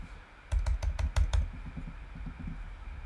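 Typing on a computer keyboard, a quick close burst of about a dozen crisp key clicks in a steady rhythm that then thins to softer taps, with no talking.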